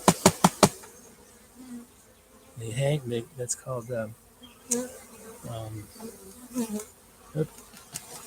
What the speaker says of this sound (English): I'm just going to give this a tap. The bees will come out.